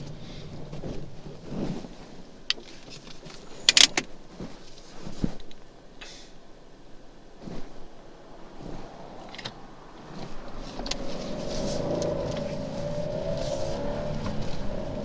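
A 2016 Fiat Panda Cross with the 0.9 TwinAir engine pulls away in a very low first gear, its engine note rising and building steadily toward the end amid some cabin knocks and wind noise.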